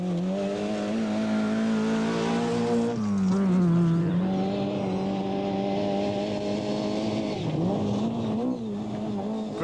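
A Vauxhall Nova rally car driven by Colin McRae in the 1988 Scottish Rally, its engine droning steadily and loud with shifting pitch as it revs, eases off near three seconds, then climbs again, with no talk.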